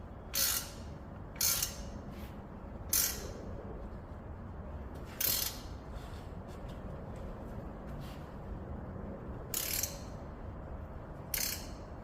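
A ratchet tightening bolts on the driver's side CV axle of a 2019 Ram 1500 Classic gives six separate bursts of quick clicking, each short and moderately loud, spread over steady background hum with no talk.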